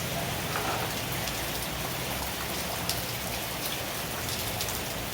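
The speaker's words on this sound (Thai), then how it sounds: "ฝนตก ฝนตกอยู่" Steady rain patters down on a surface, a dense continuous hiss with no voices, holding at an even level throughout.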